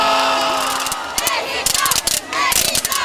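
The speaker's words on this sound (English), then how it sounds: "In the eye of the storm that is the Mexico Watch Party in Pioneer Square, the crowd is wound up" A wound-up crowd at a Mexico World Cup watch party in Pioneer Square, Seattle, roars loudly and continuously, with shouts, cheers and horn-like blasts rising over the din.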